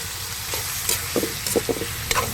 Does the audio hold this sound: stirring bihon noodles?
yes